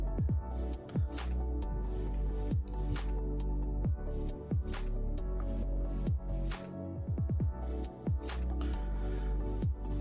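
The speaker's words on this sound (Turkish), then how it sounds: "elektrik bandı ile bantlıyorum." Electrical tape being wrapped around a transformer, giving a steady run of sharp crackling peels and sticky squishing clicks at close range over a constant low electrical hum, with no speech.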